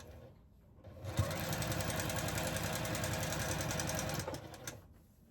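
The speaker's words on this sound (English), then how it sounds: "Let's start stitching and do a couple of back stitches right there." A sewing machine stitches a quarter-inch seam joining quilt sashing, starting after about a second, running at a steady fast whir for roughly three seconds, then stopping, with nobody speaking.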